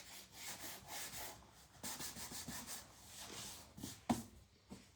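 A small sander worked over a piece of wood for a garden sign gives a faint, soft, steady rubbing and scraping in repeated strokes, with a light knock near the end.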